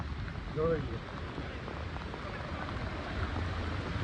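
Steady heavy rain patters continuously at Willingdon Dam in Junagadh, with a brief voice rising over it near the start and a low rumble underneath.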